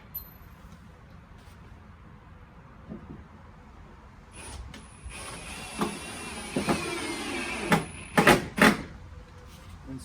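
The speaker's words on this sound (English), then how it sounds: "screw it in like so" Screw being driven into pallet wood while assembling an Adirondack chair, a whirring drive rising over several seconds and ending in a few sharp knocks, close by.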